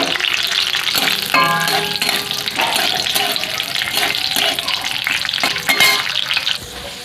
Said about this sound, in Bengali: এই তেলের মধ্যে কাজুটা ভেজে নেব।